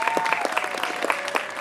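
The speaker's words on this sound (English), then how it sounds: "Round of applause for June." A live music show audience claps in steady, dense applause, fairly close, with a faint voice or tone lingering beneath the clapping.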